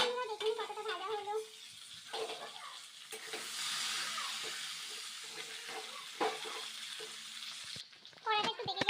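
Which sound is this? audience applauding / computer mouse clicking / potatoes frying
potatoes frying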